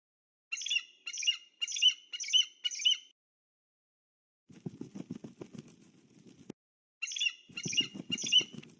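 A cartoon baby eagle squawks in a quick run of five shrill chirps, falls silent, gives way to a low fluttering patter, then squawks again in another burst of close, sharp calls.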